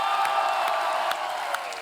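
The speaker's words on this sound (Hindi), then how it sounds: "आप सबकी जोरदार तालियों से स्वागत करना चाहूंगा" A studio audience on a comedy show claps and cheers to welcome a guest, a dense steady wash of crowd applause throughout, fairly loud, with no talk over it.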